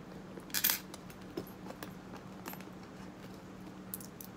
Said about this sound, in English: More pennies and a quarter.